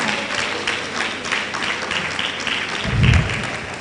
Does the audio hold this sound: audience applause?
yes